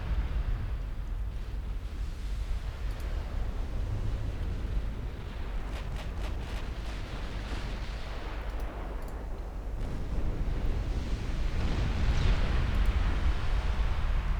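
Shells striking an enemy battleship in a naval strategy game, a steady rumbling wash of blasts with crackling bursts, swelling louder toward the end, no talk.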